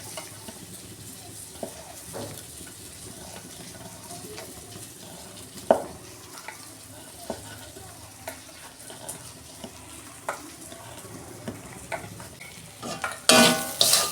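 Spice masala for red potato cutlets is stirred and sautéed in a pan, a low steady sizzle broken by scattered scraping taps of a spoon, with a louder clatter near the end.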